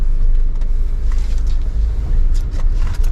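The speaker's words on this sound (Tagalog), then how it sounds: "So ang dala nating sasakyan ngayon yung Avanza." A Toyota Avanza car driving, heard from inside as a loud, steady low road rumble with faint rattles over about three seconds.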